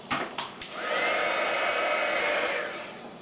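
Heat tool melting glow-in-the-dark embossing powder: a few clicks, then a steady blowing whir that holds for about two seconds and fades away, with no speech.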